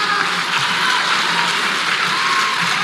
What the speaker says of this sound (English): Let's clap for Sabatho.